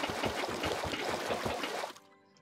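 Water poured in a Minecraft modpack game, a steady splashing trickle that runs for about two seconds and then cuts off, leaving faint quiet.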